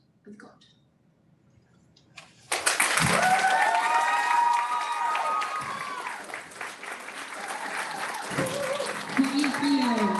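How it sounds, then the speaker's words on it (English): After a quiet start, loud applause erupts from an audience after a speech and continues steadily, with scattered murmurs and a few voices mixed in. "Can we give one more round of applause for everyone that spoke today?"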